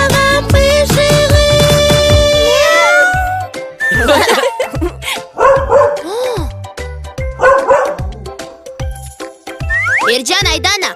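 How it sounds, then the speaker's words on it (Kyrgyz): A dog barks repeatedly in loud, uneven bursts from about three seconds on, after a sung children's melody about domestic animals opens the segment; the barks come close and clear over a faint musical backing. "Бул деген ит."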